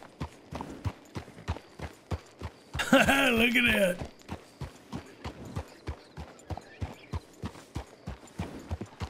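Horse hooves clip-clopping at a steady walking rhythm in a roleplay video game, evenly spaced crisp knocks throughout, briefly overlapped by a loud horse whinny and a short spoken remark.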